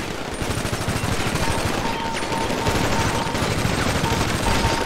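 Rapid automatic gunfire in the GTA NoPixel video game, dense bursts of shots rattling continuously and loudly throughout, with no talk over them.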